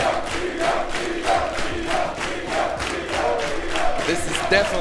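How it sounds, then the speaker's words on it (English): A live crowd at a classic Tetris world championship roars and cheers continuously, a dense, loud wash of many voices with rhythmic surges of chanting, and a commentator's voice mixed in beneath it. "The crowd is celebrating."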